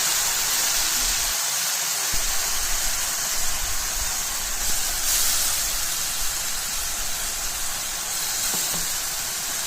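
Egg curry masala sautéing in oil for a coconut-milk egg curry gives a steady, close sizzling hiss that holds level throughout with no talk.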